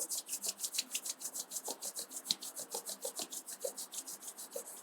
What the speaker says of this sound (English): Join your both palms together. Rub your palm.